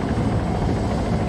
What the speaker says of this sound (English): that's helicopter